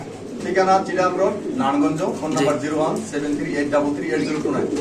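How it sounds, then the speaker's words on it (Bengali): Many pigeons coo continuously at close range inside a crowded loft, a dense, warbling chorus with a voice-like murmur blended in. "উপরে নিচে আজকে একদম ঘর ভর্তি কবুতর"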